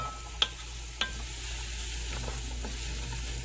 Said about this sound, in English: we're going to keep on stirring this for about another 10 minutes until those vegetables are nice and soft